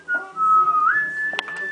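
A person whistles a short phrase of "Baby It's Cold Outside": a clear sustained note sliding upward, alone and close.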